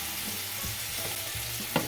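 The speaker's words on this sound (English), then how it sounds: "It's going to make a nice little sizzle." Soy sauce and rice vinegar hit a hot pan with a steady, close hissing sizzle, a soft stir and clink near the end.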